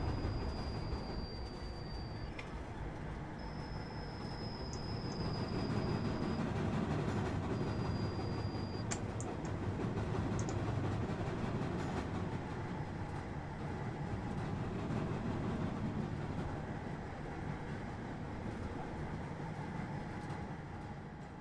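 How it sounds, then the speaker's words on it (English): A freight train rolls past in Train Sim World on a King's Lynn to London King's Cross route, a sustained rumble of wagons with clattering wheels and faint high squeals, swelling midway and holding steady, with no talk. "Do it when the freight train comes through."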